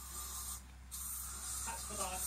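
Aftershave sprays from an aerosol can in a couple of short hissing bursts, close and fairly quiet, with a steady low hum behind and someone talking over them.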